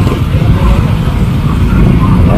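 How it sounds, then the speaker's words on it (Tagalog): Road traffic rumbles steadily and loudly around the Manila Bay area, a dense low engine roar from passing cars and motorcycles with no break, and a voice talks faintly over it. "Ano lang, traffic lang doon."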